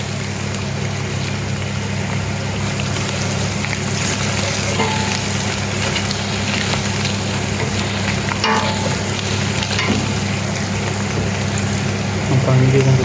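Mint leaves and spices sautéing in hot oil for chicken biryani, a dense continuous close sizzle with occasional stirring scrapes, steady and loud throughout.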